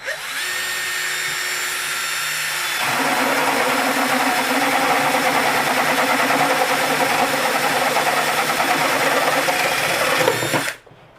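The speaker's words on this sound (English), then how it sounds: "Paddle bit again, it's just about the exact size that you need, and works perfect for cutting this plastic." A drill fitted with a 1 1/4 inch paddle bit bores through plastic with a steady, loud whine that rises and grows harsher as the bit bites into the material, then cuts off abruptly at the end.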